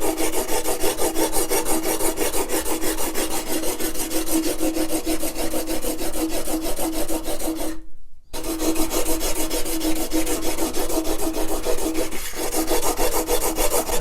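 Steady, rapid back-and-forth rasping of 120 grit wet and dry sandpaper kept wet, a loud close scrubbing that runs continuously, broken only by one brief pause midway.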